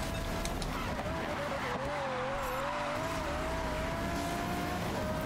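A racer crashes and skids in Need for Speed: Rivals: a steady, loud roar of engine and road noise carries a wavering tire squeal, with crash noise near the start and a dense, continuous game sound mix throughout.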